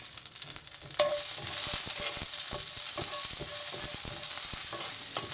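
Green and red chilies dropped into a pan of hot oil to roast, the sizzle swelling to a steady bright hiss, with irregular stirring scrapes and taps nearby; no one speaks.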